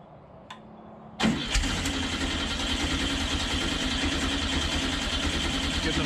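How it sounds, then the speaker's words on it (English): A VW Baja Beetle engine cranks over and catches, then settles into a steady, loud air-cooled idle that runs on close by. "All right, go ahead and start cranking."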